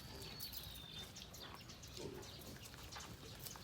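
Sows and piglets in a pig shed on a farm, with faint grunts and squeals over a steady low background, fairly distant and quiet.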